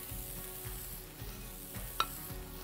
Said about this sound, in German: und da fängt es gleich an zu brutzeln